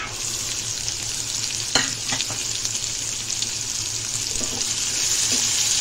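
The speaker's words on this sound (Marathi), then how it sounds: "कांदा आपला चांगला फ्राय झालेला आहे।" Onion and garlic frying in oil in a home kitchen for a matki usal dish, with a steady close sizzle and occasional stirring scrapes.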